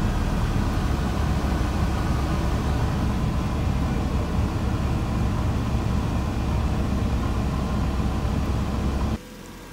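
A Mazda MX5 Mk1 engine idles steadily while warming up, a constant low rumble close by that holds level for about nine seconds before dropping off abruptly.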